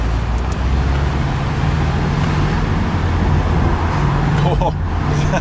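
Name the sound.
Porsche 718 Boxster engine with sport exhaust on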